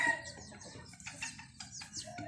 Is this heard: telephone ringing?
no